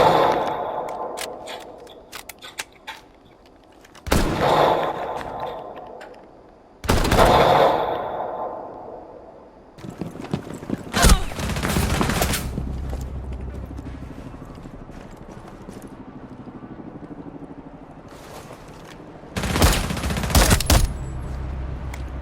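Marksman rifle gunfire in Rainbow Six Siege: several loud, sharp shot bursts spread across the stretch, each with a ringing decay, separated by quieter gaps of ambient game noise.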